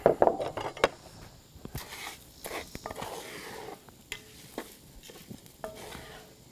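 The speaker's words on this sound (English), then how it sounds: "I'm gonna toast our rice off in this pan while the onions sweat down." Rice toasting in a hot pan alongside onions sweating down, with scraping stir strokes, a few sharp clinks of utensil on pan, and a light sizzle underneath, close up and without talk.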